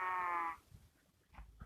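A sheep in the video game Minecraft gives one clear bleat at the start, followed by a few quiet soft game sounds.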